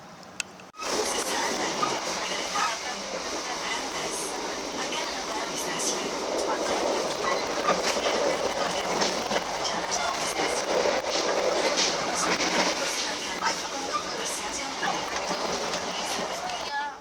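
Aboard the KA Brantas economy-class train, a steady rumble and rattle of the carriage on the rails continues throughout at moderate level, with faint clicks and background chatter.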